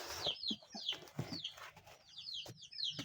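Two chickens, a birthday gift for a grandfather, clucking and squawking close by in a series of short, irregular calls, with faint rustling underneath.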